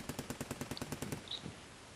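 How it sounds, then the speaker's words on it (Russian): Rapid automatic gunfire, a steady burst of about fifteen evenly spaced shots over a second and a half, then fading into a low rumbling background; distant and fairly faint. "Стреляют только советское оружие. И то оружие, которое вы заметили у псов."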